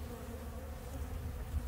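Honey bees buzz inside a beehive feeder rim built from HDO plywood, a close, continuous droning hum with no talking.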